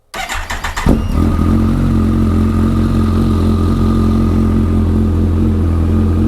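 A 2013 Kawasaki ZX-14R engine with a new Yoshimura aftermarket exhaust cranks and fires up, then settles into a loud, steady, throaty idle that rumbles on without pause.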